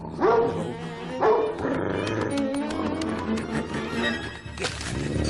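A dog barks and growls twice near the start, then snarls and scuffles continue amid busy, clattering background noise.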